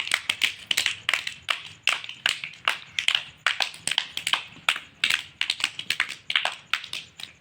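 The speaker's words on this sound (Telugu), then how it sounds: "క్లాప్స్ కొట్టండి అందరూ." A group of children claps hands in a steady, fast rhythm, the sharp bright claps falling in regular bunches throughout, close and lively, with no talking over them.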